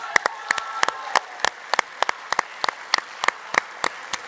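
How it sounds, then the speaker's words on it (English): A small audience claps for the competing teams at a university technology entrepreneurship competition: sparse, distinct individual claps in an uneven rhythm, fairly near, with no talk. "Can we give all of the teams a big round of applause"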